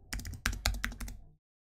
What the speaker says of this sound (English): go ahead and type in reset password